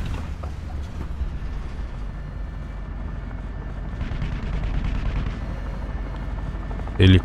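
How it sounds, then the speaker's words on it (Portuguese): A helicopter's steady rotor thrum hums throughout in War Thunder, with faint game sounds and a sharp burst at the very end. "Helicóptero."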